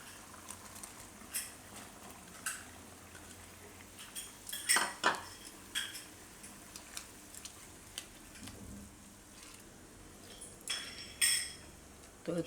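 Ridge gourd is stirred in a pot with a metal spoon, giving faint, scattered scrapes and clinks against the pot over a quiet background.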